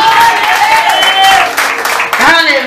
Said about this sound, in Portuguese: Aplauda o Senhor, recebe a pastora aí.